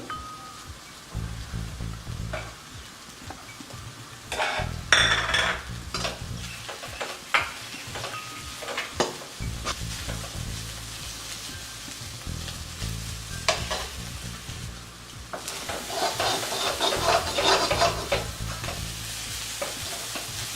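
Egg bhurji fries in a pan on high heat, a steady sizzle broken by repeated scraping and clinking strokes of a spatula stirring the eggs, close and fairly loud, with no talking.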